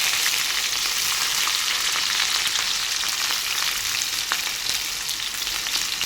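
Onions frying in hot, overheated oil for chicken masala, a loud steady sizzle with crackling pops throughout, close and continuous with no talk.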